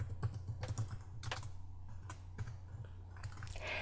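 Quiet typing on a computer keyboard, a steady stream of light, close key clicks at an uneven rhythm, with no voices.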